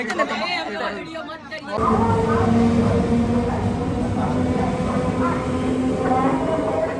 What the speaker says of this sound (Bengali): এই যে ট্রেনটা দেখলেন, ওটা তারকেশ্বর নয়, লোকাল নয়, ওটা হচ্ছে ধোঁয়া তারকেশ্বর লোকাল।